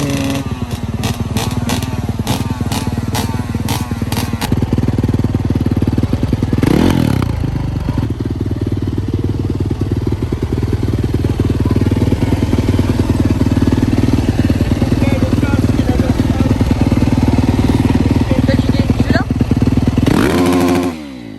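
A motorcycle engine runs loudly and close throughout on a dirt track, holding a steady drone with a few sharp revs near the start and middle, and a voice talks over it.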